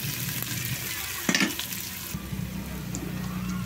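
Ginger sautéing in a pan, continuous hissing sizzle with a sharp scrape of stirring near the middle, close and loud.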